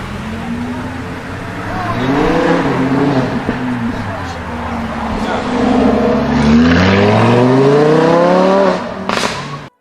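Lamborghini Huracan engine in Need for Speed Heat, a loud, close, high-pitched engine whose revs climb and fall repeatedly in long sweeps, building to a hard rising surge before cutting off abruptly.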